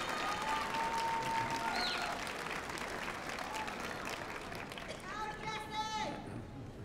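At a College of Business Administration commencement, graduates clap in a sustained round of applause for family and friends, steady but fairly faint, with a few scattered voices and whoops through the room.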